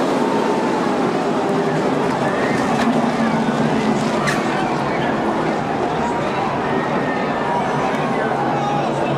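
NASCAR stock cars roaring and crashing in a multi-car pileup at Daytona, a dense, loud, continuous wash of engine and crowd noise with no clear individual impacts standing out.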